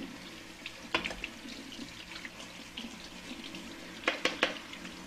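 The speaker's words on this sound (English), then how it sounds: "All right, so I'm just rinsing these out." Tap water runs steadily into a sink as food is rinsed under it to wash off salt, with a few sharp clinks of dishes near the start and again toward the end.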